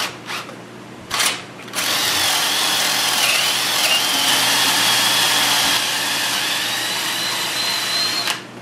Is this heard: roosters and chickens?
no